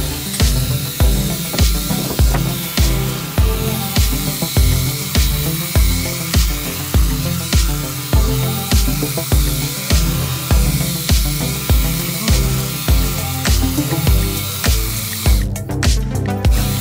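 A hedge trimmer cuts through a garden hedge, its steady buzzing drone running loud and close without a break, with regular rhythmic pulses as the blades chop through the foliage.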